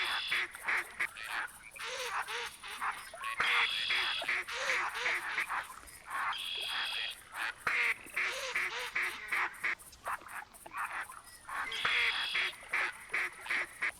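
Ducks quack and honk in a busy flock during a hunt in theHunter 2017 video game, the calls repeating in steady bursts over a constant outdoor ambience, with faint scattered talk underneath.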